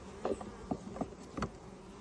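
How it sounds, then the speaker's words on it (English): Bees buzzing around a small hive entrance as foragers arrive carrying pollen, with several brief close passes of buzzing wings standing out over a quiet outdoor background. "the bees are coming in with pollen"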